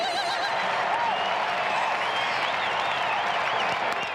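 A big crowd at a baseball game in a stadium claps and cheers in a steady, continuous roar, with occasional whistles cutting through.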